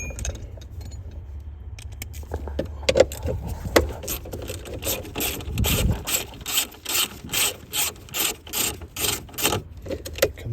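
A socket ratchet backs a 7mm screw out of the dashboard air tube of a 1994-1997 MN12 car, giving a close, steady run of rhythmic clicks after some handling and rattling at the start.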